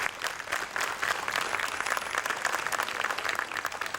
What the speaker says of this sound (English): Huge round of applause for that.